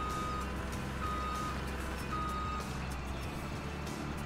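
A Mack truck maneuvering in Farming Simulator 2017 hums with a low, steady engine drone while reversing beeps repeat in an even rhythm over it, with no voices.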